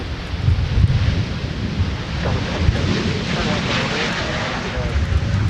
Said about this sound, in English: The wind continues to batter us here at the aircraft viewing area